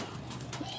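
A bird, likely a pigeon or dove, gives one brief, soft coo over a steady background hum.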